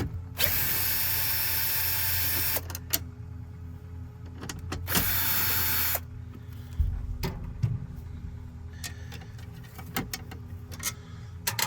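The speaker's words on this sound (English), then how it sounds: "There's 2 bolts there that we're going to remove." A power tool whirs in long loud bursts while bolts are taken out under the lifted carpet of a 2016 Ford Transit 150. Short clicks and clatters of parts being handled come between the bursts, all close by and with no voices.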